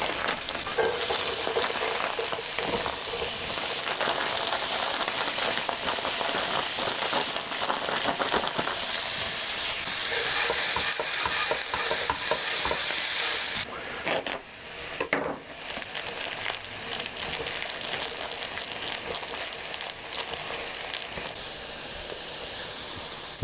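Ground pork fries and browns in a hot pan for jjajangmyeon, a steady close sizzle with crackling spatters throughout, dipping briefly before settling into a slightly softer hiss.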